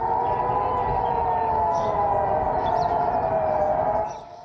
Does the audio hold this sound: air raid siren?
yes